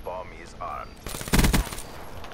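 A short burst of rapid automatic gunfire in Black Ops 3 arena multiplayer, loud and close, following a few brief electronic game tones.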